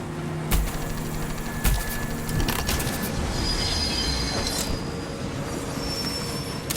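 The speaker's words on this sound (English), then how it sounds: "There's a train car." A train car rolls on rails in the video game Voidtrain, giving a steady loud rumble with sharp metallic clanks near the start and middle and thin high wheel squeals running through it, with no voices.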